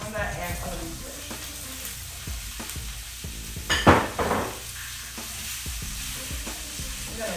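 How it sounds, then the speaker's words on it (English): Vegetables frying in coconut oil in a single pan while a chicken and vegetable dish cooks, giving a steady close sizzle with stirring scrapes and a louder burst of spatter midway. "I'm cooking this with some coconut oil. I'm gonna add some of these vegetables."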